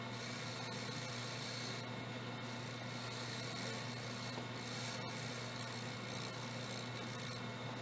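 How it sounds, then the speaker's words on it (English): A turning tool shear-scrapes wood on a spinning lathe, making a steady, faint rasping rub over a continuous motor hum with no pauses. "I could shear scrape it this way."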